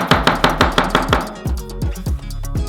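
A knife slices mushrooms thinly on a cutting board for pizza toppings, a quick run of crisp, regular close-up chops that slows into more spaced, softer cuts.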